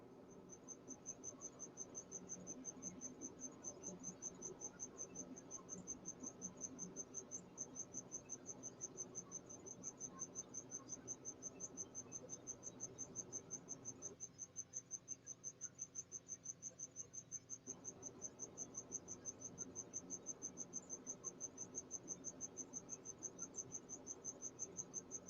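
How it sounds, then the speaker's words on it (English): Steady high cricket chirping pulses continuously and evenly throughout, fairly loud and close, with a low background hum and no voices. "Am I tripping, or do you guys hear a cricket or something?"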